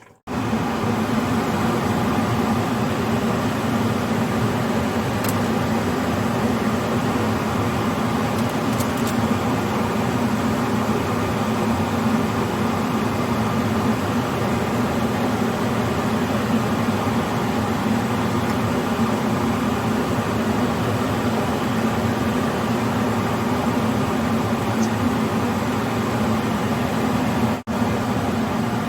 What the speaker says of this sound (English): Sorry for the fan that you're hearing